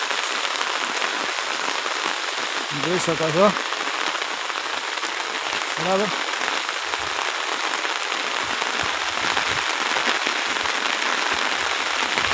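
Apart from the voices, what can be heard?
heavy rain falling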